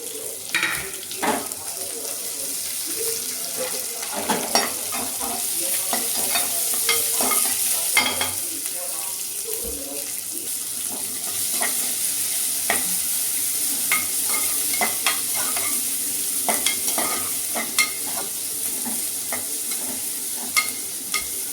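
Onion and garlic frying in oil in a pan while being stirred, a continuous close sizzle with repeated scraping and clinking utensil strokes throughout, no talk over it.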